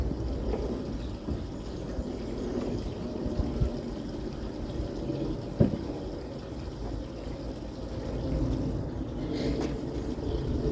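Liquid pours and swirls steadily into a jug as a mix for fish is stirred up, with a soft continuous watery rush and an occasional clunk, close and without speech.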